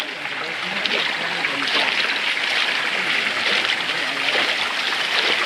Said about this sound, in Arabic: هاي بداية الشلالات